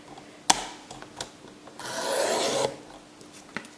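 Paper being cut for small handmade books, a sharp snip followed by a longer close rasping slice lasting about a second, with a few light taps and rustles around it.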